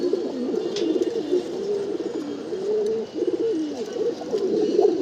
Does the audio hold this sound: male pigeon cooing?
yes